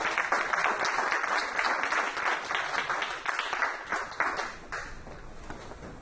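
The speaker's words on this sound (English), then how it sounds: "Can we welcome them to the round of applause?" A room full of people applauds to welcome a panel of speakers at a community business event, with dense, steady clapping that holds for the whole stretch without talk.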